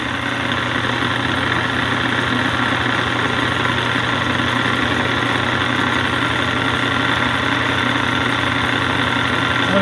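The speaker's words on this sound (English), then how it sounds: "right away I can hear that I'm going to be purchasing a set of bearings for this motor, but it did start right up" A 30 HP TEMCo rotary phase converter motor, with worn bearings, runs with a loud, steady hum and a constant mechanical drone throughout.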